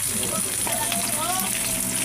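Marinated boneless milkfish (bangus daing) frying in hot oil, giving a steady, dense close-up sizzle that holds even throughout, with faint crackles and pops on top.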